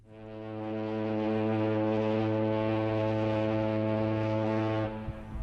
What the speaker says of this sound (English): I could hear a ferry foghorn reverberating in the depth of the thick